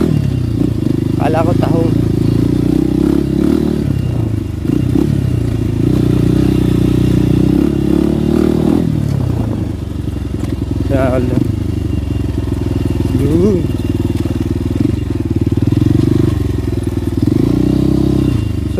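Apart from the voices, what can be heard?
motorcycle being ridden for practice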